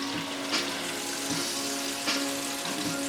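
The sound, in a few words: steak searing and sizzling in a pan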